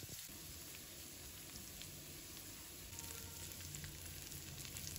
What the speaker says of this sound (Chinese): 把蒜末放入锅中， 用中火把它炒香。